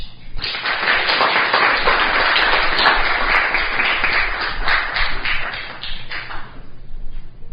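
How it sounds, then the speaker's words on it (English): Audience applause welcoming a speaker to the stage at the MEET Italy 2019 research and innovation event: dense, steady clapping from a large crowd lasting several seconds, then thinning out near the end. "Now I'd like to give a very warm round of applause to Davide Comazzo to the stage."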